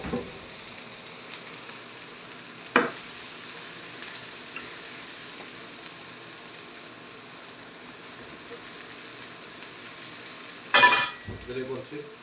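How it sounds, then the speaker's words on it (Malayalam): Chopped onion hitting hot oil in a pan with chicken, frying with a steady close sizzle throughout and two brief scraping clatters of stirring. "ഇതിന് ശേഷം നമുക്കിതിൽ സവോള വലിയ ഒനിയൻ കട്ട് ചെയ്തത് ഇട്ട് കൊടുക്കും."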